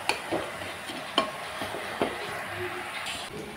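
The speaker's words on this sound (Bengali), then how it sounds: "এখন আমি ভালো করে কষিয়ে নেব চাল ডাল সবজি" Rice, lentils and vegetables being sautéed in a pot for khichuri, a low sizzle under intermittent spoon clinks and stirring scrapes against the metal.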